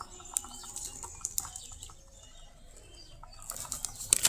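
A caged dove flaps its wings in short bursts of fluttering, with quieter rustling and faint chirps between the flurries.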